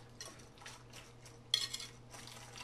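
A marinade of sugar and salt for chipotle venison or beef jerky is stirred in a bowl with a utensil, giving soft repeated scraping swishes and one brighter clink against the bowl, quiet and close.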